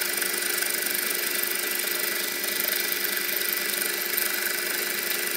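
A homebuilt Gingery milling machine runs while machining the tail stand, giving a loud, steady motor drone with a faint rhythmic knock throughout.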